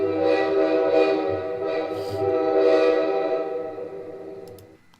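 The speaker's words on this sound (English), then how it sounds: "Pull that train out of the station." A train sound effect plays during a live basketball play-by-play stream: a sustained, chord-like horn blast rising and fading over about four seconds, loud and alone before trailing off.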